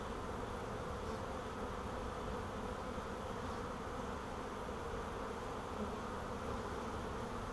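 A steady, dense buzzing of a bee swarm fills the air, continuous and fairly close, with no voices.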